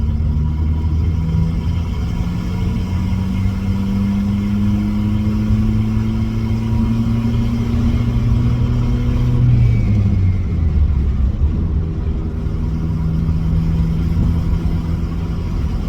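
A Mitsubishi 4G15 engine fitted with a GT3582 turbocharger revs steadily and loud and close, its pitch sweeping up and down through gentle throttle, with no talking.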